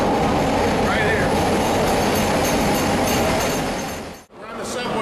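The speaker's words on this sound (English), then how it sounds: "Here comes the train." Chicago Red Line subway train rumbling into an underground platform, a steady loud rolling roar with a brief wheel squeal, then a sudden cut near the end.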